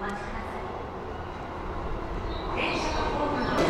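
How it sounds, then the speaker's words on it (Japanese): An Odakyu Romancecar MSE express rolls away from an underground platform, leaving a low, rumbling whoosh that swells slightly toward the end, with faint higher squeals over the steady roar. "MSE が走り去る音が聞こえてきたかと思ったら、もうすぐに次の列車の風が吹いてきてそこに顔を見せています。"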